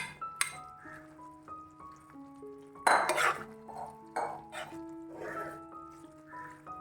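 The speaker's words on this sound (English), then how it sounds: "now the sauce is ready now. We'll add the pasta. Just have to toss it." Penne pasta tossed in creamy white sauce in a pan, with clinks and scrapes of a utensil against the pan, several distinct knocks and a louder clatter midway, otherwise fairly quiet with faint background tones.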